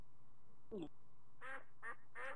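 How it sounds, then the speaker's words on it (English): A duck or goose gives four short quacks, one alone and then three in quick succession, fairly close and clear over a quiet background. "Oh, that's a duck or a goose."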